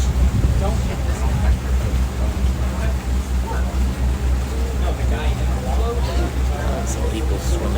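A boat runs across a bay on a nice day, its engine a steady low rumble with wind and water wash throughout, close and continuous.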